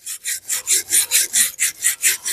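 Steel wire brush scrubbing rotten reclaimed wood, about ten rhythmic rasping strokes in quick succession, close and clear with no talk.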